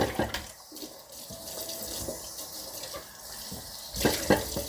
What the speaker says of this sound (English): And then I just rinse everything off quickly. Make sure I get all the soap off.